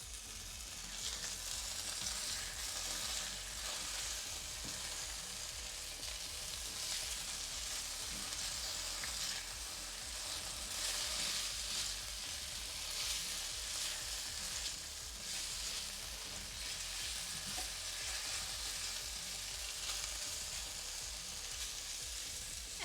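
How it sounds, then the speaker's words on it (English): Food sizzles and crackles steadily in a pan while a spoon stirs through it, a dense, even frying hiss that carries on for over twenty seconds with no voices. "Give those another stir."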